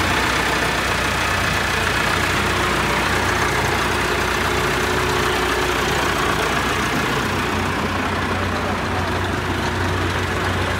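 A Burak B4100 two-wheel-drive tractor engine runs steadily and loudly throughout, a constant close diesel drone with no break.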